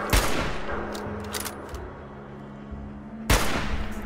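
Two heavy gunshots from the game Fallout 4 boom out, one at the start and one near the end, with a steady hum of game ambience between them and no talk.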